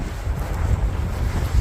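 Strong wind buffeting the microphone beside a frozen, snow-covered lake on a sunny day, a loud continuous low roar with gusty rumble and no voices.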